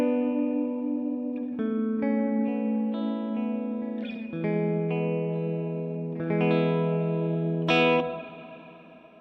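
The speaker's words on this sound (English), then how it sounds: "That reverb goes on and on, doesn't it?" Guitar notes through a Mvave Mini Universe pedal into a UAFX Lion amp on a clean setting, chords struck one after another with a long, washy reverb tail that sustains and blends each into the next.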